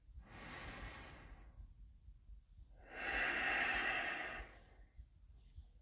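Slow, deep breaths taken during a yoga flow for the upper back: a long soft inhale, a pause, then a louder rushing exhale, close and alone with no talk.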